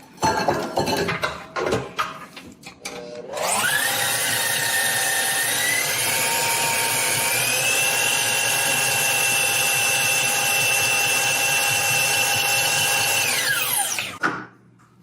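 An electric hand mixer whirs loudly and evenly for about ten seconds, creaming softened butter with packed light brown sugar for gingerbread dough, after some bowl clatter.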